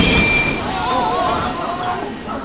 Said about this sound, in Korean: 우리 열차 곧 출발합니다